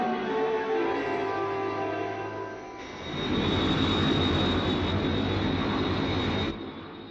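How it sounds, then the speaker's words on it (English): Jet engine roar from a crippled aircraft in the Captain Scarlet TV series, a steady broadband rumble that surges louder after a few seconds, holds, then drops back. "Captain Scarlet and Captain Blue have taken the controls, but the jet is not responding"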